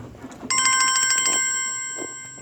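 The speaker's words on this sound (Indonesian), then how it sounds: "ntar sahabat-sahabat ada telepon." Telephone ringing once, a short bright electronic trill lasting about a second that then fades, heard alone against faint background noise.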